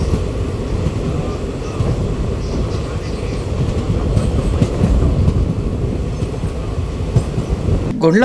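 Medak–Kachiguda unreserved passenger train 57302 rolls along steadily with a continuous loud rumble and rattling wheel clatter, heard from inside the coach with no break, and a brief sharp squeal at the very end.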